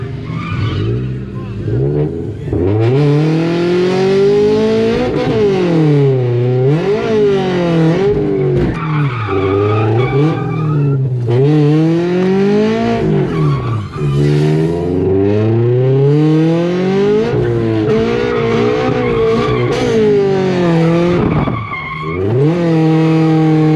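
A car driving hard around autocross cones, close and loud, its engine rising and falling repeatedly as it accelerates, brakes and turns, with tire squeal through the corners and voices partly over it.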